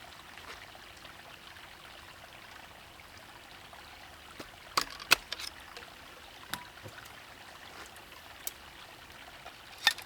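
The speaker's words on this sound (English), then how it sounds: "We got that nice rushing water in the background," A rushing stream flows in the background outdoors, a faint, steady wash of water with a few sharp clicks and knocks nearby, no one speaking.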